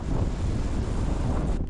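Strong wind on a hilltop buffets the microphone in a loud, continuous low roar and rumble, with no voices.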